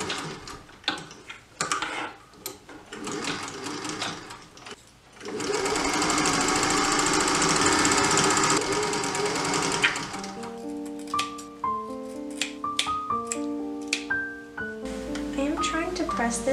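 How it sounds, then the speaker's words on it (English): A sewing machine stitching the lapel facings of an 1895 waistcoat runs in a steady mechanical whir for several seconds, framed by fabric handling and clicks, with a person talking before and after. "I'm going to sew them right sides together here, and then stopping just before the collar"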